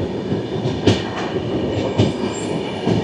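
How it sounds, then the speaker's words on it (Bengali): The Duronto Express rolls into Bhubaneswar station with a steady rumble of wheels on rails, rhythmic clacks and brief metallic squeals, close and continuous. "আমরা এবারে ভুবনেশ্বর স্টেশন ঢুকছি"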